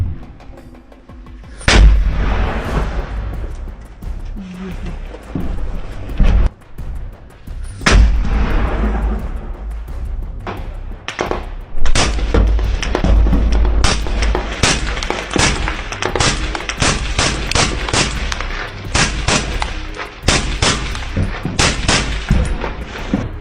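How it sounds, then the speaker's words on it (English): A Ukrainian soldier fires a sniper rifle in Bakhmut, producing loud, close bangs, first a few spaced shots, then a dense, rapid run of sharp cracks through the rest of the clip. "it is still striking to hear the shots fired by the Ukrainian soldier"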